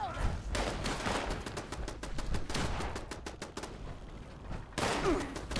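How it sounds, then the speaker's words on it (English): Rapid bursts of gunfire crackle outside in Fallout 76, sharp repeated shots in uneven clusters across the whole stretch, moderately loud with no voice over them. "Gunfire outside, so that's a good sign."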